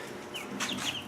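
Young meat chicks in a homemade brooder built from old doors topped with chicken wire give a few thin, high cheeps, close and fairly soft over a quiet background hiss.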